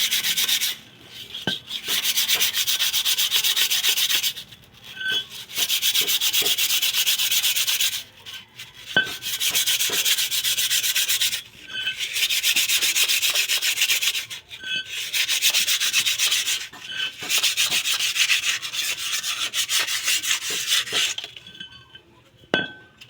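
Rust being scraped off the brake parts of a Suzuki palette wagon, a dry rasping scrub in repeated bursts of a few seconds each, separated by short pauses, with occasional light metallic clinks, close and steady, no talk.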